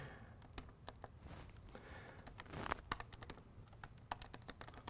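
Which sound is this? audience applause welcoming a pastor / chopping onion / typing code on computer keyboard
typing code on computer keyboard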